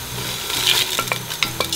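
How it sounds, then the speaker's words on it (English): Onions fry with garam masala and ginger while being stirred, a close sizzle under repeated scraping and clinking of a spoon against the pan, loud and continuous, nobody speaking. "keep stirring the onions till it's golden brown, because then we'll add the garam masala"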